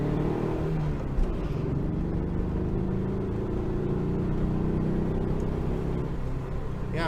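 A 1966 Volkswagen Fastback driving in second gear, running slightly uneven, with a steady low engine drone and road rumble heard from inside the car at moderate level, no speech.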